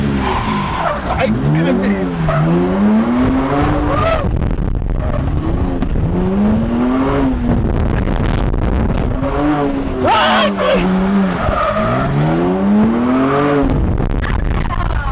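A car drifts with its engine revving in repeated swelling sweeps while the tires screech and skid, loud and close, with people talking and exclaiming throughout.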